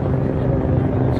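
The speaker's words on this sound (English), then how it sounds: "We got a helicopter joining the crew." A helicopter passes over a night car meet for BMWs and exotics, its rotor and engine making a dense, steady low rumble that fills the short stretch, with faint crowd noise underneath.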